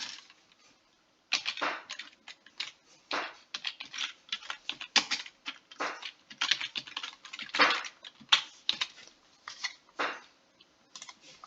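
Typing a chat message on a computer keyboard in a driving simulator game, close irregular bursts of rapid key clicks after a short quiet opening, with no voices.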